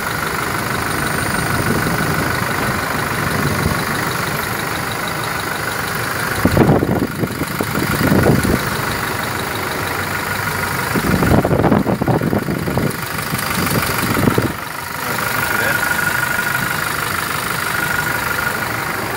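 A 2017 Toyota Kijang Innova 2.4D diesel engine fitted with an HHO fuel saver idles steadily and loudly up close, with a rough, knocking diesel rumble and a few brief surges.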